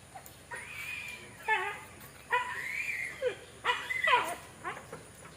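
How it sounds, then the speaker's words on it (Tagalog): A tethered dog whimpers and yips in a series of short, high, rising cries with a few barks, fairly close, repeating every second or so against quiet background. "Nakalabas ba yung aso?"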